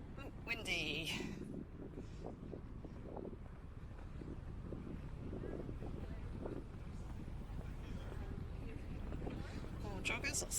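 Gusty wind buffets the microphone on an outdoor walk in Westminster, London, near Big Ben and the Houses of Parliament, a loud rumbling roar throughout with brief voices and city noise mixed in.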